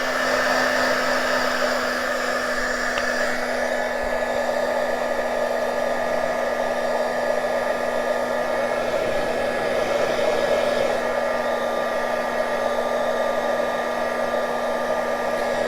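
A hair dryer runs continuously at close range with a steady whirring blow and a fixed whine, drying paint on a handmade boho journal tag.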